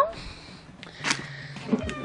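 A house cat meows once or twice in a home, fairly close and moderately loud, amid faint background sounds and some voice activity.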